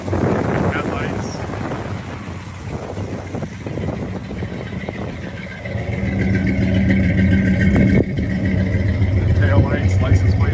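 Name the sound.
muscle car engine idling with headers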